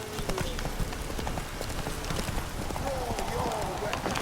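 The horse Roach gallops in the game Witcher 3, its hooves clopping steadily and fairly close under a spoken voice, with a long tonal sweep partway through.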